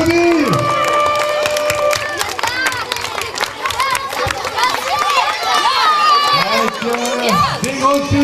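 Crowd at a children's relay race podium ceremony in a community garden cheers and claps loudly and steadily, with children shouting and excited chatter mixed throughout.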